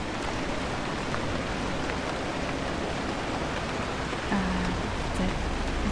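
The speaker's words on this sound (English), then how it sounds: "It's raining inside." Continuous heavy rain falling indoors in the video game Pacific Drive hisses steadily, a dense even wash of falling water with no pauses and no voices.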